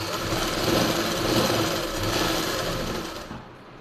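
A sewing machine runs steadily, stitching a seam on a baby frock. The motor hums in one continuous run for a few seconds, then cuts off near the end, with no talk over it.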